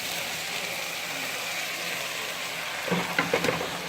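Shrimp, broccoli and carrots sizzle in a hot pan for a stir fry, a constant frying hiss with scraping stirring noises near the end.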